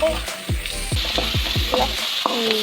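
Onions sizzle in hot oil with cumin, pepper and salt for a village-style fish soup, a bright steady frying hiss broken by repeated scraping stirs in quick rhythm.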